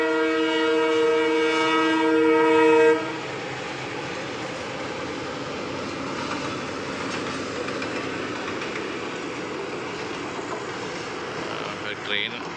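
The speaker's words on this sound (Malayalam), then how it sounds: "ട്രെയിൻ വരുന്നുണ്ട്. ട്രെയിൻ വരുന്നത് നമുക്ക് കേൾക്കാം." A locomotive running without passenger coaches passes a seaside road near Colombo, sounding a loud, sustained horn for about three seconds before a steady, rolling rumble of wheels on track continues.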